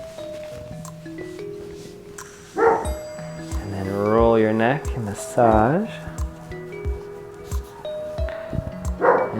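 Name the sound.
dog barking while guarding the house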